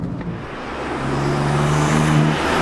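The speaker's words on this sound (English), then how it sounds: "I really love how this car sounds." A BMW M4 F82 engine rumbles at idle and then revs up smoothly, its deep tone rising and swelling over a couple of seconds, heard up close without speech.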